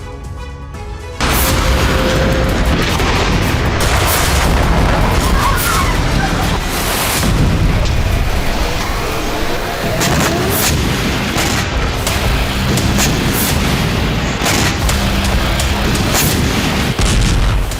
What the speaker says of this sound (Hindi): गाजा में इजराइल ने नए सिरे से बमबारी शुरू कर दी।